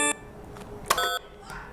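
A quiz game show buzzer sounds as contestants buzz in: several short, bright electronic tones in quick succession, fairly loud and close, with no talk over them.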